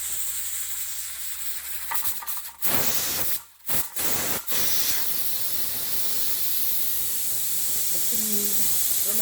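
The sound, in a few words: pressure cooker releasing steam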